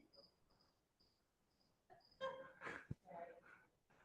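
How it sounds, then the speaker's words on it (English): Cricket-like chirping from a phone ringtone in a presentation room, a faint repeated high chirp pulsing in a steady rhythm, then cut off as a person starts talking. "That's a phone, right? We don't have crickets."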